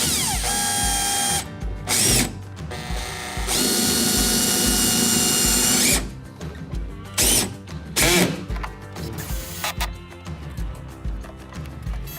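A power drill drives screws to snug a backing ring against the base of a kayak hatch on a Hobie Mirage Passport 12, in several loud whirring bursts separated by brief pauses and ratcheting clicks.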